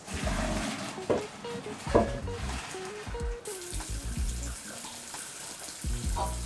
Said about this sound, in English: So let's drain and rinse that just so it's ready to go.